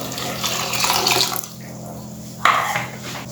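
Water poured into a pot of Goan salted pork coconut curry with masala, a broad splashing pour for over a second, then a quieter stretch and a brief clink before another short splash.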